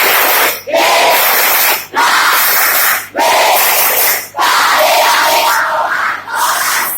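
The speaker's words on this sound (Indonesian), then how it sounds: "Kenapa antum harus berteriak seperti itu?" A seminar audience at a motivational youth gathering in Bogor shouts a group cheer in loud unison, four or five forceful bursts separated by short breaths, close and filling the room.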